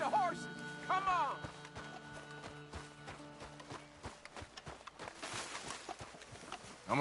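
Horse hooves clip-clop in Red Dead Redemption 2, quick uneven hoofbeats under game music and character voices, moderately quiet in the mix.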